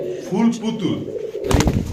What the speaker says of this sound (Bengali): এত সুন্দর কবুতরা দেখেন ভাই